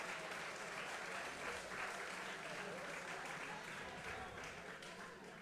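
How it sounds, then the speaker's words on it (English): An audience at a Formula SAE awards ceremony in Lincoln claps steadily in a sustained, dense round of applause that fills the room from start to finish. "let's give Gary and Cummins a nice round of applause"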